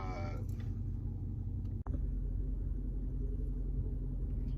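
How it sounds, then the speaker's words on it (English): Dodge Charger R/T engine idling with a steady deep rumble, a brief sharp dip partway through, then settling back into a constant low, close drone. "that throttle sound pretty good, man"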